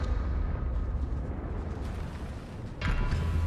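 The Confringo blasting spell explodes in Hogwarts Legacy as a continuous deep, rumbling roar that holds steady for several seconds, with a fresh surge of crackling blast near the end and no speech.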